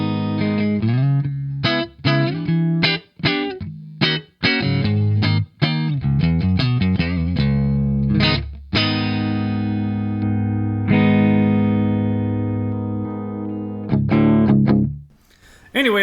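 Upgraded Epiphone Les Paul electric guitar on its EMG neck pickup through a clean amp channel, played close and loud: quick picked note runs and chord stabs, then long sustained ringing chords fading out, with no talk over the playing.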